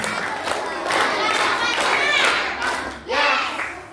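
Children clapping in unison at an elementary school Isra' Mi'raj celebration, a run of sharp group claps counted out one to five, with young voices chanting over the clapping in a lively hall.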